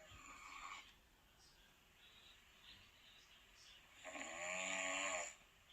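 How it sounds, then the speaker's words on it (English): A recording of snoring plays back faintly, with one soft breathy snore near the start and a longer, louder rasping snore toward the end under low background hiss. "let me get the snore up then"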